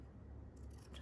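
Scissors snip through a decorated paper sack, soft low-level cutting that grows a little brighter and crisper toward the end, close and without talk.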